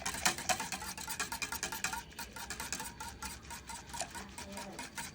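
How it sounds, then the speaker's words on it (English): Spoon stirring milk in a pot for hot chocolate, making quick, rhythmic scraping clinks against the pot. The sound is close and fairly soft, repeating steadily without pause. "Remember, the more you stir, the faster it will warm up."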